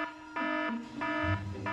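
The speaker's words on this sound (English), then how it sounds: "oh my god, it's a fire alarm." A fire alarm sounds indoors in repeated short electronic beeps, about three bursts in under two seconds with brief gaps between them, fairly loud and clear against a quiet room.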